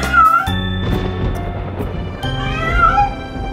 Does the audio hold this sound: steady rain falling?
no